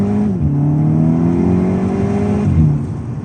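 Stock VW Scirocco 2.0 TSI, 210 hp, heard from inside while driving, a loud steady engine hum rising through the revs, briefly dropping at a gear change, then climbing again.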